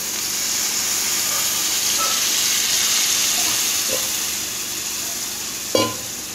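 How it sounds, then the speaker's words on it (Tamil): Water poured into a pan of vegetable lemon rice with turmeric, giving a steady close hiss and bubbling simmer that runs throughout, with a brief louder splash near the end. "இது நல்லா கொதிச்சு வைக்கிறதுக்காக கொஞ்சம் தண்ணீர் சேர்த்தாச்சு."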